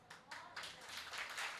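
Audience members clap at a religious welcome event for a visiting sadhvi, a faint scattering of claps in short uneven bursts that grows into steadier applause.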